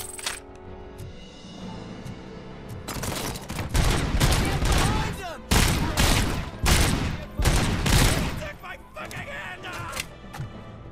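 Gunfire in the video game Robocop: Rogue City, loud bursts of rapid shots and volleys that rise and fall in clusters over several seconds, with game effects and some voice underneath.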